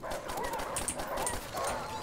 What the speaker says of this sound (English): Oh, God, there's dogs.